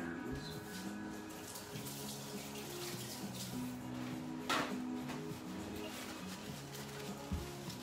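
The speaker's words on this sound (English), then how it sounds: "I'm just going to wash my hands." Tap water runs continuously into a sink while hands are washed beneath it, a steady close hiss with faint clinks and a soft low hum, no talking over it.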